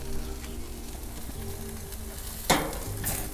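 Chicken pieces sizzling on a gas grill with flare-ups, a steady broadband crackle and hiss close by, with a sudden louder burst of flame or spatter midway and a low hum underneath.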